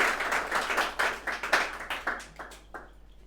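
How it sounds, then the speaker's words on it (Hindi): Audience clapping at a 2023 student award ceremony for toppers at a coaching class in Handia, Prayagraj, a dense burst of hand claps that gradually thins out and fades into sparse scattered claps near the end. "तो जोरदार तालियां हो जाएं।"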